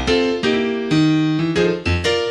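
Solo piano blues groove with a driving left-hand bass pattern that leaps by octaves, chords struck in a steady rhythm of about five hits over two seconds, close and loud with no talking.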